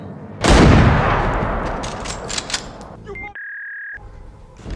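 Gunfire in a tense scene from The Last of Us TV series erupts as a sudden loud blast that decays into a long rumble, followed by clicks and a sustained electronic tone.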